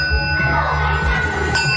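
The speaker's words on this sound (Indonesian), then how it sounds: "Bel waktu sekolah dimulai." An electric school bell at an Indonesian senior high school rings to mark the start of morning lessons: a steady, continuous metallic ringing held loud and unbroken throughout, over a low background rumble.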